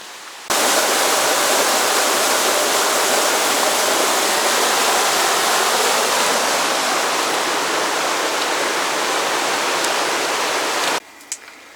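Steady rushing water from a creek near a campsite at Birkenhead Park, British Columbia, flows without a break for about ten seconds, a dense, even roar close by, then cuts off abruptly.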